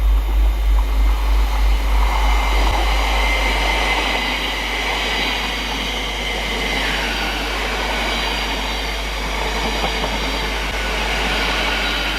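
A train rumbles steadily nearby at a station on a line to Ely in East Anglia, with a constant low hum and rail noise, a faint screech rising midway, no voices.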